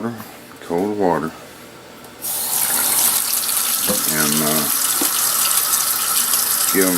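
Cold water gushes from a tap into a container used for processing range brass, a steady loud rushing that starts abruptly partway through and runs on, with someone talking briefly before and over it.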